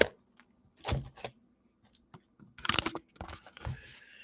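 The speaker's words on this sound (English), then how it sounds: "Let me move my keyboard." A computer keyboard is shifted across a desk, making a few short, close clunks and scrapes separated by brief quiet gaps.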